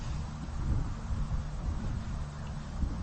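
Low, steady rumble of wind buffeting the microphone outdoors on a disc golf course during a tournament round, continuous and fairly loud with no other clear sounds.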